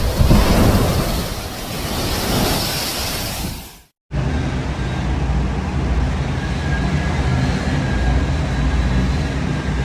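Strong typhoon winds and heavy rain batter a coastline in a loud, continuous, broadband roar that cuts off sharply near the middle and resumes at a steady rush.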